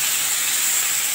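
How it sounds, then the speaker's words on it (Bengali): Hot water hits a sizzling, well-fried spice mix in a pan during a prawn dish. A loud, steady steam hiss is heard up close and alone. "এবার আমি এর মধ্যে গরম জল অ্যাড করে দিচ্ছি।"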